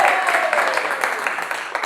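An audience at a talk claps in a dense, steady burst of applause for about two seconds, heard close and full throughout.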